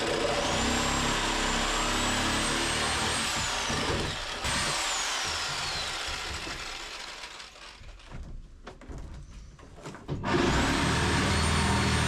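A power driver with a flathead bit driving out an old bolt whines steadily and rises in pitch, then stops and falls, with ratcheting and rattling in between and a final burst of whirring.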